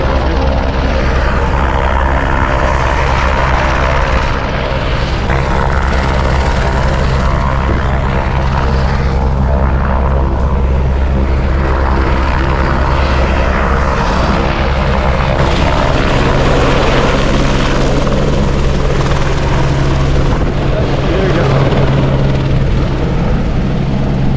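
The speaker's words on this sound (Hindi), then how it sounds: "हेलीकॉप्टर से राइड कर रहे थे ये लोग देखिए" A helicopter's loud, steady rotor thump and turbine whine fill the air continuously, close by and constant throughout, on the Amarnath Yatra pilgrimage route.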